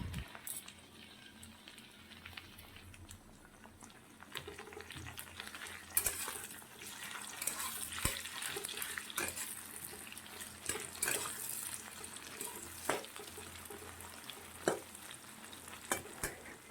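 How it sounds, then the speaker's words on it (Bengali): Pre-fried potatoes with chopped tomato sizzle in a pan while a spatula stirs and scrapes them, making a close, continuous crackle with irregular sharp clicks. "তো ভালো করে নাড়াচাড়া দিয়ে এখন আমি এটার মধ্যে মশলাটা দিয়ে দেব"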